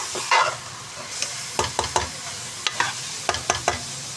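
Spice masala being stirred and roasted in a pan for kala chana masala, with a soft sizzle under a run of distinct scraping stirs that come close together in the middle and toward the end.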